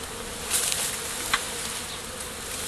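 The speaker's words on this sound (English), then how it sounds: "One just stung my glove." Honeybees buzz around a beekeeper removing a hive, a dense, steady hum filling the air close by, with a few slightly louder passes of individual bees.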